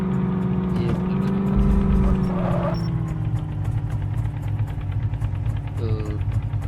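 Tractor engine from an Indian tractor 3D video game drones loudly and steadily, with the pitch shifting briefly as it revs, while someone talks over it.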